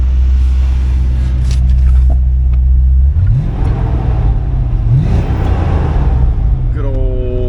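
A 1993 Ford Mustang LX Fox Body with a 5.0L V8 and speed-density to mass-airflow conversion idles loudly up close, then revs twice, each rise in pitch falling back to a deep rumble.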